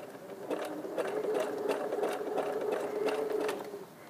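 A sewing machine runs zigzag stitches around a HoneyBun fabric bowl, its needle hammering in a fast, steady rhythm of short bursts with a humming motor, close by and alone without talk.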